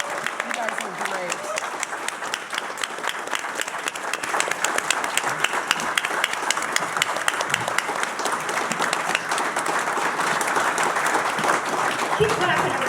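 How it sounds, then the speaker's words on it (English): A live audience at a staged radio-drama performance of War of the Worlds applauds steadily for about thirteen seconds, a dense and even wash of clapping with voices mixed in. "Keep clapping, everybody."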